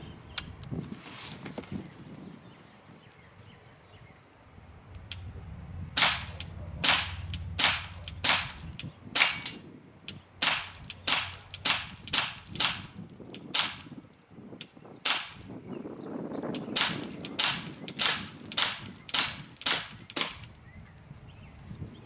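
Smith & Wesson M&P CO2 BB pistol from Umarex fired repeatedly nearby, a long string of sharp, snappy cracks at a quick uneven pace, with a brief pause mid-sequence before the shots resume.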